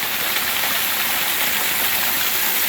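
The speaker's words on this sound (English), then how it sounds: "Another little waterfall." A small waterfall on the Ozark Highlands Trail rushes steadily and close by, a dense, even wash of falling water that holds constant throughout with no voices.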